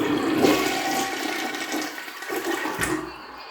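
A home toilet being flushed during a repair of a weak flush, water rushing loudly then gurgling and tapering off over a few seconds, close by and alone.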